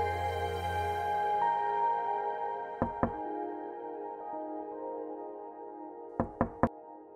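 Two quick knocks on a door, a pause, then three more raps in quick succession, over a quiet background hum.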